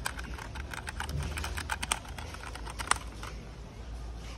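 A cheap laptop keyboard set to mimic mechanical-keyboard sounds gives a quick run of soft clicky keystrokes, irregular and close, fading into faint background hum.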